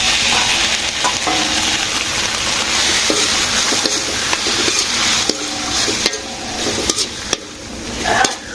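Steady sizzling of greens cooking in a hot pan, with a spatula stirring and scraping, plus occasional sharp clicks and taps.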